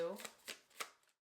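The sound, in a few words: shuffling a deck of tarot cards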